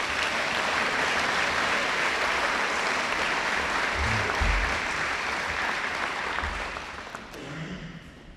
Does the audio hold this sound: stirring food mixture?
no